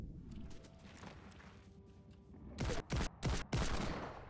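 Faint clicking and shuffling give way to a loud burst of four sharp gunshots in quick succession in Fortnite.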